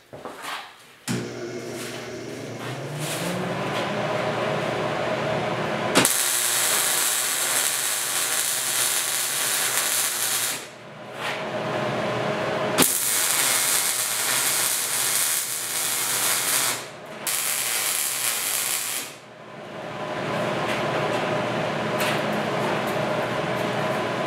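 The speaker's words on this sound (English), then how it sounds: "Now we can finish our welds on the grill part." Arc welding on the steel grill part of a heavy-duty outdoor cooking grill: several long bursts of loud, steady crackling hiss, each lasting a few seconds, broken by short quiet gaps, close by, with no talking.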